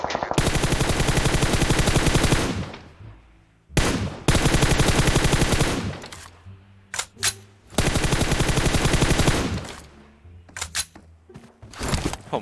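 Automatic weapon fire in PUBG Mobile rattles out in long, loud, close bursts, broken by pauses and a few isolated single shots near the end.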